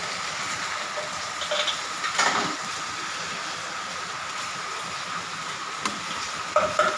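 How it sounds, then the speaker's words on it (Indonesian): A spoon stirs risoles filling of spices and vegetables in a pan, soft scraping and faint sizzling running steadily in the background with a few louder clinks. "Kita aduk sampai rata."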